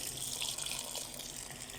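Water pours steadily into a pot of chicken seasoned with turmeric, chili and salt, set to boil: a continuous close gushing rush with no talk.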